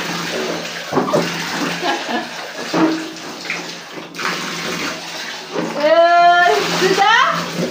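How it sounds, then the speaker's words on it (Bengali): Water splashes and pours while a child is bathed, irregular wet splashes close by under constant adult talk, with a child's high-pitched voice calling out near the end. "আহা হা দিদিভাইকে স্নান করিয়ে দিই"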